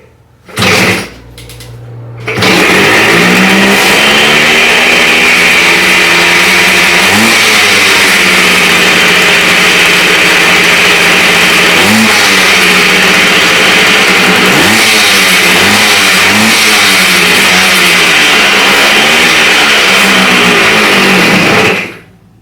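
A 1970s Kawasaki G4TR Trailboss motorcycle engine kicks into life and then runs loud and close, revving up and down repeatedly for about twenty seconds before it cuts off abruptly.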